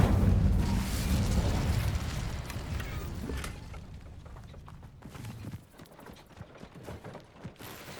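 An Incendio fire spell cast in Hogwarts Legacy opens with a loud, roaring whoosh that slowly fades, giving way to scattered clattering and popping game effects.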